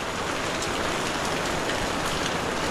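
Steady, dense rain pours down throughout, a constant close hiss of drops on surfaces with no break and no voices.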